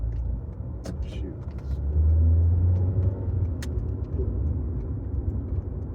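Steady low rumble of a car engine while driving, with road noise swelling briefly in the middle, and a voice talking over it at times.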